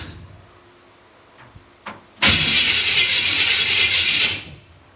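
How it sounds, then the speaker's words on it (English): The starter of a 1955 Chevy truck is bumped, letting out a loud, harsh, squealing whir that lasts about two seconds and then stops abruptly, after a couple of quiet clicks. "So I'm gonna just bump the starter and see if it'll spin, okay?"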